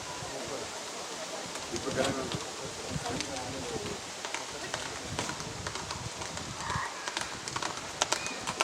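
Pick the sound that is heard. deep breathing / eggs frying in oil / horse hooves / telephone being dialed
horse hooves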